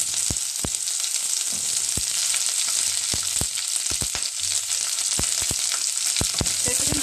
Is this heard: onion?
yes